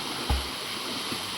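Water rushes in a steady broadband hiss along a mountain stream on a steep forest trek, continuous and fairly close, with a brief low thump near the start.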